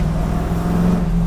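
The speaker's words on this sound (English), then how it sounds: "that exhaust sounds really, really good" Exhaust of a 1969 Chevrolet Camaro SS 632ci restomod on the road, a loud, steady, deep engine rumble heard from close by while cruising, with no voices over it.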